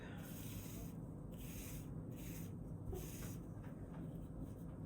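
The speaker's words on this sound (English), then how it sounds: "rub the black watercolor across the tops of my bubble wrap" A brush rubs black watercolor across the raised tops of bubble wrap on watercolor paper, giving a steady, close scratchy rubbing in repeated strokes with soft hiss, alone without talk.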